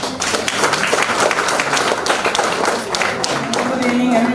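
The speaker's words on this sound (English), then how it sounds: "Can I have a round of applause, please?" An audience at a school alumni meet breaks into a full round of applause, steady and dense throughout, with a few voices faintly audible beneath the clapping.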